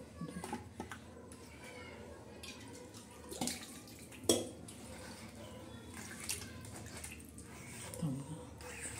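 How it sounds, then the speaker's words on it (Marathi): Water splashes and runs over a stone grinding slab (pata) as it is rinsed after grinding black masala, fairly quiet and irregular, with a few louder knocks and faint background voices. "हे बघा पाटा कसा धुतोय आपण"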